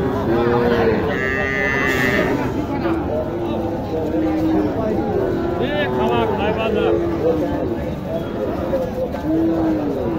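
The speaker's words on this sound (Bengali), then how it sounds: "এই যে একটা গরু দেখেন" A cow moos at a busy livestock market among local cattle and bull calves in Naogaon, with repeated lowing calls over steady crowd chatter and people talking nearby.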